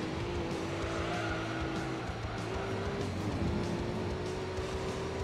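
A Renault Clio race car in Gran Turismo 3 on PlayStation 2 drives with a steady, loud engine drone, its pitch shifting between gears, with faint tire squeal and no talking.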